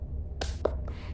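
A fourth-grade Islamic culture class claps together in a short cheer: three quick, fairly faint claps in a loose rhythm over a quiet room hum.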